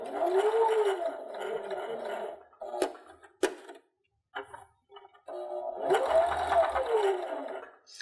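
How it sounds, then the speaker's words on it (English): Sewing machine stitching diagonal quilting lines with a standard presser foot on a sunglasses case, a steady whirring hum in two runs with a few clicks and a short pause between. "So I am going to do my diagonal quilting on here."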